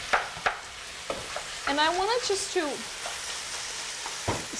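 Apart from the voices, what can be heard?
ground chicken sizzling in a pan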